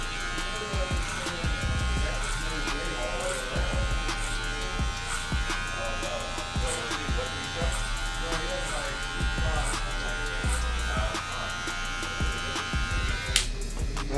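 Budget hair clipper buzzing steadily while cutting hair, a constant electric hum with small bursts and clicks as it moves through hair, with a voice talking over it.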